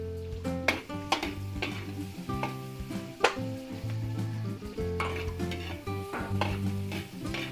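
Onions fry in a pan with a constant close sizzle, punctuated by sharp clicks and scrapes from stirring, over a faint tonal background hum.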